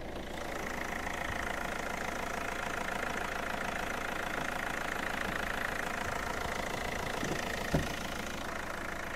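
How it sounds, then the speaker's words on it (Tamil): Hyundai Verna 2009 CRDI diesel car engine idling, a steady faint diesel clatter and hum with even knocking rhythm, continuous and unchanging, with a single small thump near the end. "சிஆர்டிஐ இன்ஜின் தான். டீசல் வண்டி ரொம்பவே ஸ்மூத்தாக இருக்குது."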